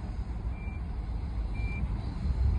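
Power liftgate of a 2017 Nissan Armada SL opening: a steady motorized whir over a low rumble, with two brief high electronic beeps. Nobody talks.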